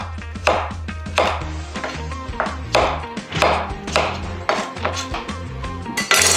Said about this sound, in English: I'm gonna take these chunks and then cut them into even cubes just like that.